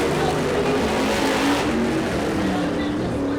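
A race car rounding turn 4 toward the checkered flag at a racetrack, its engine a steady, loud roar throughout, with an announcer talking over it.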